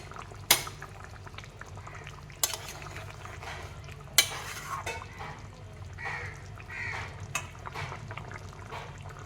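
Potato and fried catfish curry bubbles and simmers in a pot, a soft continuous boil broken by a few sharp clinks and stirring splashes, fairly quiet and close.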